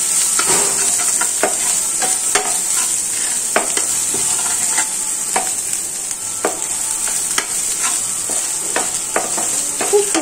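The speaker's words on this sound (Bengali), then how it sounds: "খুব ভালো করে এবার এগুলোকে আমি ফ্রাই করে নেবো বাটার দিয়ে।" Chopped garlic, ginger and black pepper fry in butter, a bright steady sizzle broken by frequent sharp scrapes and taps of a spatula stirring in the pan, close and alone.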